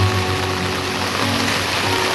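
Heavy, steady rain falls over a village, a dense even wash of noise with no gaps, carrying a low hum beneath.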